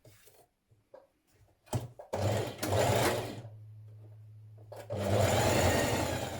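A sewing machine stitches the shoulder seam of a summer dress in two loud, close bursts of rapid mechanical whirring, with quiet handling rustles and taps between them.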